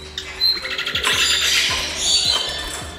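Lovebirds (agapornis) chirp and squawk close by in quick overlapping calls, with soft rhythmic tapping or movement sounds underneath and no talk.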